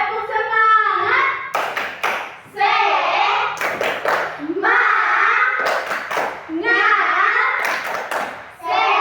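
A group of primary school children in a classroom claps in a quick rhythmic pattern, bursts of sharp claps alternating with their chanting voices, loud and close.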